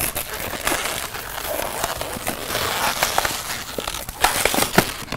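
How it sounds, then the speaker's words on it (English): Rubbery squeaks and crinkly friction from a long balloon being twisted into a balloon dog at a camp, a steady close-up crackling texture with sharper squeaks near the end. "So when you twist it, give it 2-3 good turns."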